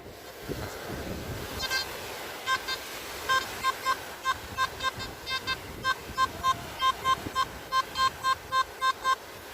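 A repeating electronic beeping tone from a metal detector, short evenly spaced pulses growing steadier and faster, clear over a faint outdoor background hiss.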